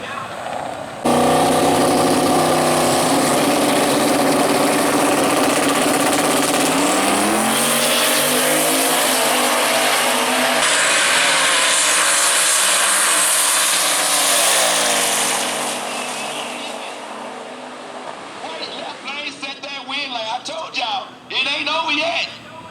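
A 1978 Chevy Malibu wagon and a 1990 Ford Mustang launch down a drag strip, engines roaring loud and close, then fading into the distance as they race away, with an announcer talking over the noise.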